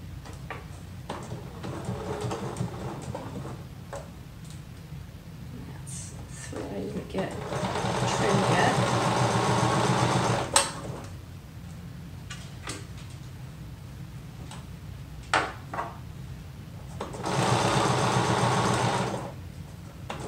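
A sewing machine stitching liquid lamé shirt fabric runs in several steady bursts with pauses between them, and a voice talks over the quieter stretches.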